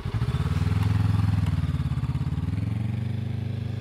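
Motorcycle engine running steadily at low speed during slow-speed front-brake stopping practice, a loud close low rumble with a slight dip in revs partway through, no talking.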